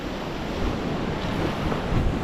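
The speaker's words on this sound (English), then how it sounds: "The wind turned around just a moment ago and definitely got a little bit more rough now here" Strong wind and rough sea surf wash against a rocky fishing ledge at Shark Bay, a steady, loud roar of breaking waves and gusting wind buffeting the microphone with no pauses.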